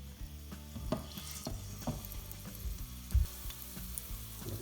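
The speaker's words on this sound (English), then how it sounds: "It's starting to sizzle there" Spices sizzling in oil in a hot frying pan on medium heat while making aloo gobi curry, a soft steady crackle with light clinks of stirring, close and quiet.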